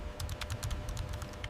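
Rapid, steady typing on a Dell laptop keyboard, with a quick run of soft key clicks close by and no voices.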